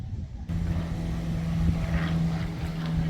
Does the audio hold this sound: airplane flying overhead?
yes